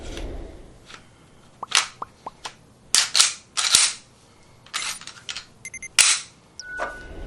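A Ruger RXM pistol, its slide on a Glock 19 frame, fires a string of sharp shots at an outdoor range, loud irregular cracks with metallic clicks between them, ending with the slide locking back on an empty magazine.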